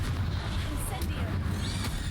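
An Incendio fire spell cast in Hogwarts Legacy bursts out as a dense, roaring whoosh of flame and blast effects, loud and continuous, layered with game voices and battle noise.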